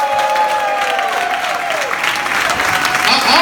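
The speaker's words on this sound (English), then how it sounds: "I want everybody to give Eddie Melton a round of applause." An audience at Senator Eddie Melton's acceptance speech breaks into loud, sustained applause with some crowd noise, while a voice carries over the clapping.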